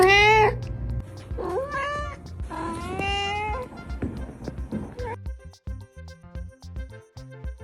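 A domestic cat gives three loud, close meows in quick succession, each rising and falling, followed by light instrumental music.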